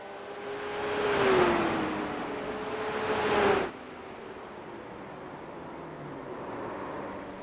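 A Porsche Cup race car spinning out at The Glen in a racing video game, its engine droning and rising in pitch before cutting off sharply, leaving steady road and engine noise.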